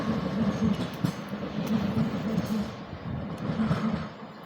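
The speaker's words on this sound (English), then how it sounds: "It's a Class 707 service departing Sevenoaks to London Charing Cross." A Class 707 electric train pulls out of Sevenoaks station, heading for London Charing Cross. It gives a steady, loud rolling rumble with a faint rhythmic clatter of wheels over the rail joints, heard close by without any voices.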